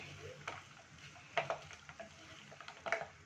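Spoon stirring chunks of onion frying in a pan with pork, a soft steady sizzle broken by several sharp scraping clacks and taps of the utensil against the pan.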